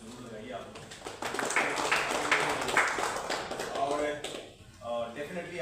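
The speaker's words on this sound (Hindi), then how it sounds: "सबसे पहले उनके लिए जोरदार ताली जरूर लगाइए आप लोग।" An audience claps and applauds a host at a talk held at IIT Patna, a dense burst of clapping that swells and then fades, with voices under it.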